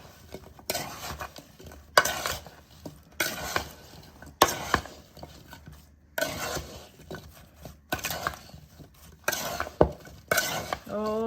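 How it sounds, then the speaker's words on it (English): Apple pie filling tossed with flour in a bowl, heard as a series of close, rhythmic scraping and clinking strokes of a utensil against the bowl, in repeated bursts with short pauses between. "And then we're just going to mix this really well."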